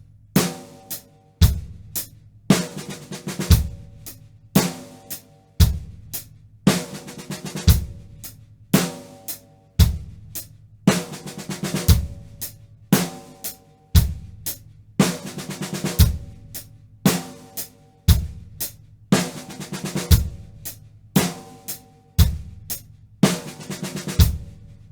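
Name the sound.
backwards 7-stroke roll on drumset into hi-hat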